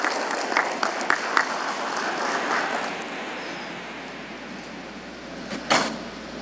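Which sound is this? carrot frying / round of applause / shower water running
round of applause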